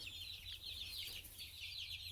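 Laying hens keep up a dense, continuous clucking chatter from a flock nearby, steady in level with no clear breaks and no voices.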